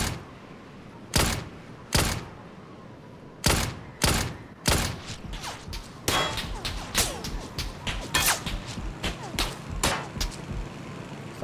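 Gunfire in PUBG, a battle royale shooter: sharp, loud single shots ring out at irregular intervals, then a denser run of rapid cracks follows near the end, with no talking.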